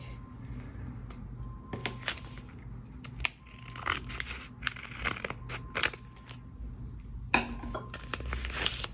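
Scissors snip open a stitched-shut happy-mail package, with short crisp cuts and papery crinkling up close, several sharp clicks scattered across the quiet.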